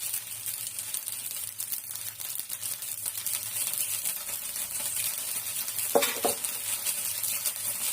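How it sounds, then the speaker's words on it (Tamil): Dosa batter ladled onto a hot pan in a home kitchen, crackling and sizzling continuously at moderate volume, with a brief louder spatter near the end and no talking. "அப்படியே தோசையாக ஊற்றிடுவோம்."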